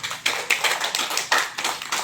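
Audience applause in a hotel function room at a character-education celebration event, heard as rhythmic bursts of clapping, roughly every quarter second, moderately loud and steady with no voices over it.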